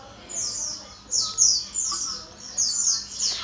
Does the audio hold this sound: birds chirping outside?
yes